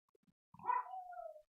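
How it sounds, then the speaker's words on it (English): A young dog gives one faint, shrill, scream-like bark at a door indoors, rising sharply and then trailing off. "Her bark is quite literally a scream"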